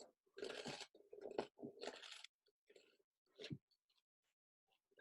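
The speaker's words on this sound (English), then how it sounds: "Crunchy biscuit." Close, crisp crunching of a biscuit being bitten and chewed, in a few loud bursts separated by short quiet pauses.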